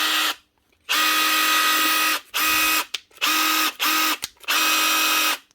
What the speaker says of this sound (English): One Makita impactor.